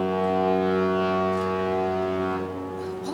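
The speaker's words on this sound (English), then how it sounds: "The harbor foghorn." A harbor foghorn used as a sound effect in a stage play sounds one long, loud, steady low blast filling the whole moment, with faint stage noise at the end.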